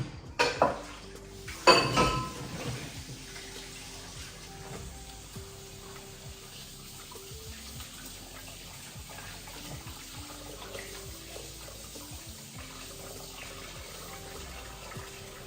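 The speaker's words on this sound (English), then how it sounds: "I'm gonna wash my hands really quick" Water runs steadily from a kitchen tap while hands are washed at a home sink, preceded by a few sharp clatters of dishes and utensils at the start.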